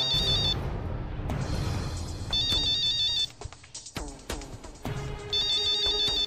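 A phone ringtone plays a repeating electronic melody, pausing briefly and then ringing again, loud and close with no talking.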